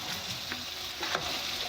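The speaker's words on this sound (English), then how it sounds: "let it fry a little bit in this" Chicken frying in a pan for macaroni and cheese, a steady close sizzle with a couple of small pops.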